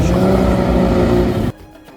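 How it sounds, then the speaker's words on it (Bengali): A blue Chevrolet Corvette roars past at a Canadian car-lovers' meet, its engine loud and close with a deep, sustained rumble for about a second and a half before cutting off abruptly to quiet. "একটি নীল রঙের করভেট ঠিক এখনই পার হলো আমাদের পাশ দিয়ে ইঞ্জিনের গর্জনে কাঁপিয়ে দিল পুরো এলাকাটা"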